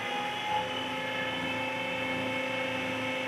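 A loud, steady engine drone with strong harmonic tones holds level throughout and swells slightly near the start, with no talk over it.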